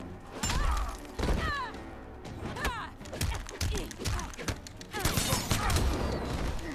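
Shots from an opponent's gun in the fighting game Mortal Kombat X, repeated sharp bangs and heavy impact thuds mixed with hit effects and grunting voices, loud and close in an irregular rhythm.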